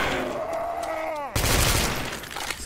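Rapid gunfire from a Commando rifle in a custom zombie map video game, a fast burst of shots following a falling tonal sweep, loud and dense.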